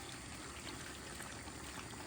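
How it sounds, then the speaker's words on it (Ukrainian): Water is poured from a large cup over potatoes in a pot, a soft, steady, continuous stream of trickling and splashing heard quietly and alone. "І воду наливаю, щоб просто покрила"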